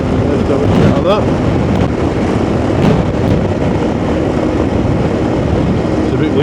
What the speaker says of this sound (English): It's a bit windy tonight though